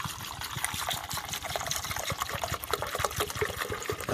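Descaling solution poured into the water reservoir of a Keurig K-Classic coffee maker, a continuous splashing, gurgling pour heard close up.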